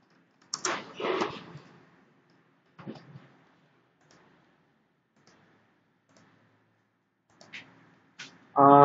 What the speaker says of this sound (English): So I'm going to create a new text file in it. And I'm going to type